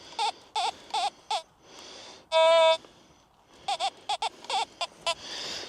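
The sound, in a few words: metal detector signal tone over a buried target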